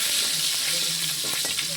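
Crushed garlic and cumin frying in hot oil, a dense close hiss of sizzling with faint stirring scrapes underneath, brief and continuous.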